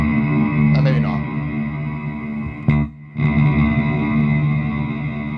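An electric guitar runs through an EarthQuaker Devices Afterneath V3 reverb pedal, giving a sustained, washy, shimmering drone with a short pick flurry near the start and a brief dropout just before the three-second mark.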